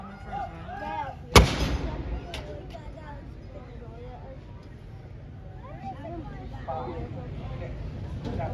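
A single artillery gun booms once at an Armed Forces Day display at Jordanstown Loughshore Park, a sharp loud report echoing away, with people talking throughout in the outdoor crowd.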